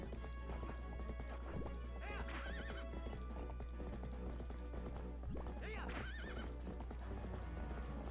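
Horse galloping with rapid clip-clop hoofbeats and two clear neighs in the Twilight Princess HD video game, loud over a constant game music and ambience bed, with a voice speaking faintly at times.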